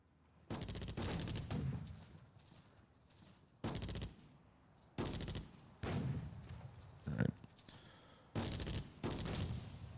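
Gunfire and artillery blasts in the WWII strategy game Attack At Dawn: North Africa, with loud repeated bursts of fire separated by brief lulls and a sharper crack near the middle, no talk over it.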